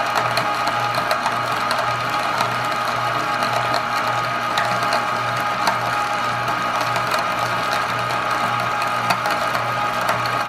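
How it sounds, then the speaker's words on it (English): A meat grinder churns raw meat for cat food, a loud, steady mechanical whir and grind with a constant motor hum running throughout. "I'm just about to finish up grinding this meat. And I had the grinder on"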